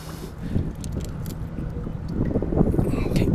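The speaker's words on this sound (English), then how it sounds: "Can't believe how windy it is." Wind gusts across the microphone outdoors while fishing from a boat at a tournament, a continuous low roaring rumble that swells louder toward the end, with no talking.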